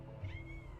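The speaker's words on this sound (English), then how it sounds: "You're doing all this meowing." A cat gives one short, faint meow that sits low beneath a steady background hum, brief and a little distant.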